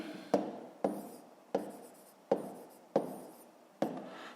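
Chalk taps and scratches on a board during a fifth-grade math lesson, giving six sharp strokes, each followed by a brief scraping trail, heard close and with no talk.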